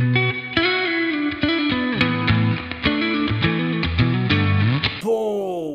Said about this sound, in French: C'est exactement ce que j'aime dans cette reverb, c'est que on a de l'amplitude, de l'atmosphère.